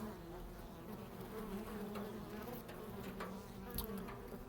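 Honeybees swarm around a beehive, making a steady, continuous buzzing drone that stays faint and even throughout, with no voices.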